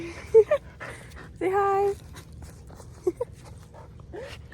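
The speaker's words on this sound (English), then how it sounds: "There's my dog." A dog named Bailey, outdoors in nature, gives short breathy pants and a few high whimpers. A nearby voice speaks briefly between the sounds.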